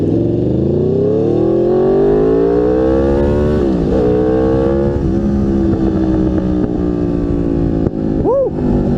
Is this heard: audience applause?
no